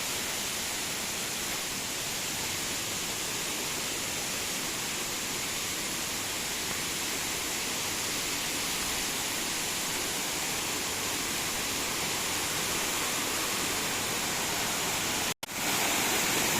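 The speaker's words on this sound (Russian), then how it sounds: "Да, и сама река." A river near the Ijen volcano in Indonesia rushes in a steady, dense roar that stays even and fairly loud throughout, with no voices and only a brief dropout near the end.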